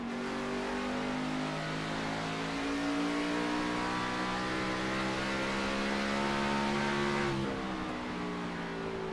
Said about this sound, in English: And now what the 99 is doing, just very easy. Listen to the throttle.